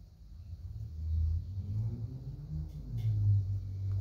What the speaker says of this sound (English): I hear every car out on the street right now today.